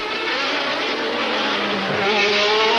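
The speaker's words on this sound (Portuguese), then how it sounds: "da ultrapassagem do Senna em cima do Satoru Nakajima" Formula 1 cars at the 1990 Monaco Grand Prix, with Senna overtaking Satoru Nakajima, as a continuous high-revving engine roar fills the whole stretch, loud and unbroken.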